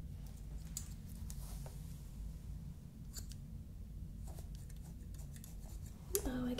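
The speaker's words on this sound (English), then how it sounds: "I guess the scissors don't cut that way" Soft, close snipping of scissors against a steady low hum, with a few faint crisp cuts scattered through and a brief clatter near the end.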